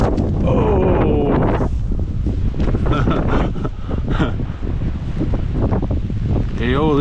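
Strong wind gusting at an oceanfront estate, buffeting the microphone with a loud, continuous roar throughout, while a voice speaks faintly underneath.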